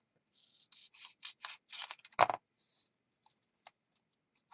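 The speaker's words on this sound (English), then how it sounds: "I'm going to fold over an inch and trim this." Paper folded over by an inch is trimmed with scissors for a junk journal: a run of crisp, close snipping cuts in quick succession, then a few lighter isolated clicks and rustles as the cutting stops.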